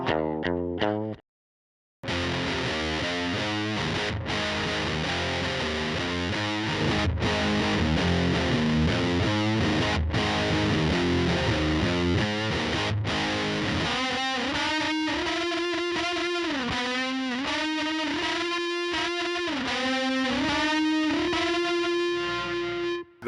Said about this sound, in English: Scoop is going to be your classic transistor big muff sound.